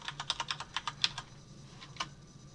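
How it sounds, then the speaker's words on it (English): Someone types quickly on a computer keyboard, a faint, close burst of about a dozen crisp key clicks, then a pause and a couple of final taps, in a quiet room. "And if I type in something rude,"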